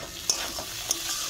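Tomatoes stir-fry in a pan with ginger-garlic paste, making a soft, constant sizzle broken by two quick spatula scrapes.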